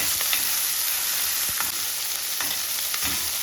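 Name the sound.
small onions (shallots) frying in a pan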